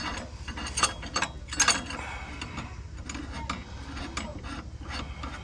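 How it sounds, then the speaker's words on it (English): A clutch puller works on the clutch of a Polaris RZR XP 1000 during an inner clutch cover reseal, making close metallic clicks and ratcheting bursts with a few sharper clanks over a low background, and no voices. "Grab your clutch puller."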